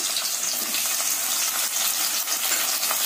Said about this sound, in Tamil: அடுத்து தக்காளியை போடுறேன்.